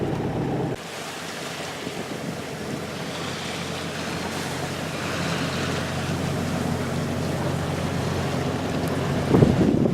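A boat motoring under power through flat, windless Vineyard Sound toward Edgartown, Martha's Vineyard: a steady low engine drone under continuous wash of water and wind noise, unbroken for the whole stretch with a brief bump near the end.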